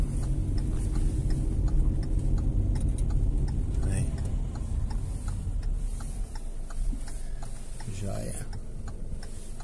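A car's turn signal indicator ticks at a regular, steady pace inside the cabin during a driving lesson on an uphill street, with the engine running underneath and brief spoken remarks.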